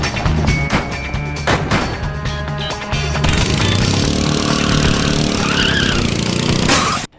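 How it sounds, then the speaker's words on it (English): A fast unlockable go-kart in the video game Bully drives loudly with a steady engine drone, skidding and tire squeal, and a thump early on before the motor surges louder and holds, then cuts off sharply at the end. "That thing is fast. It's a fast go-kart."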